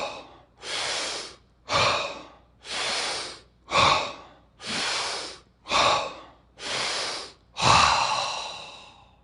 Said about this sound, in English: want you to breathe obnoxiously deep